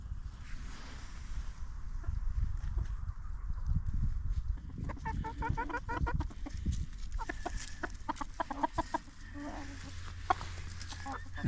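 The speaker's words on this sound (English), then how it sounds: "That's another rooster." Roosters call and cluck close by on a small farm, bursts of harsh fowl vocalizing in the middle of the stretch over rustling handling noise and a low background rumble.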